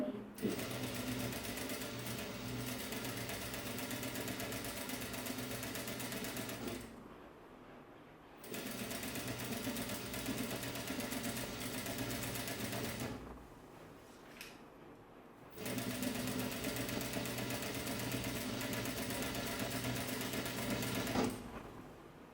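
A sewing machine runs along an ao dai seam in three long stretches of fast, even whirring broken by brief pauses, heard close but at low volume, with a voice speaking during the gaps.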